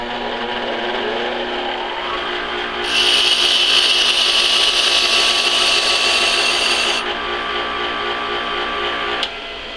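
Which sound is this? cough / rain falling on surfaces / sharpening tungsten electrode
sharpening tungsten electrode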